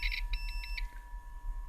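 Multimeter continuity buzzer testing a fuse from an old large boombox: a few short, quiet electronic beeps in quick succession, then a faint steady hum.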